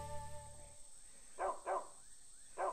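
Dog barking in the arcade video game Big Buck Hunter Arcade, during a Duck Hunt tribute: three short, clear electronic barks in quick succession after a brief musical tone.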